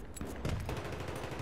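Dense gunfire in a Battlefield 3 firefight, a loud sustained burst of overlapping automatic shots and blasts that runs through the whole moment with no talk.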